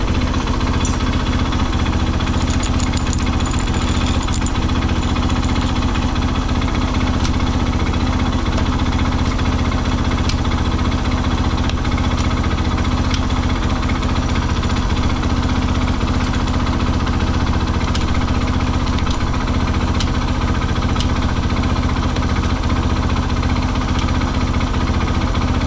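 Honda XR200R motorcycle engine running steadily in first gear, a continuous close mechanical drone with faint rhythmic ticking and no voices.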